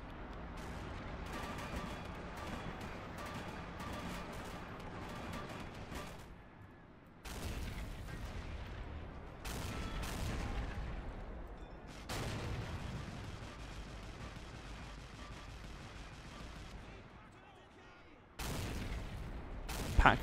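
Explosions and artillery fire from the Men of War: Assault Squad battlefield game, heavy booms and bursts coming in dense stretches broken by short quiet gaps, loud and chaotic throughout.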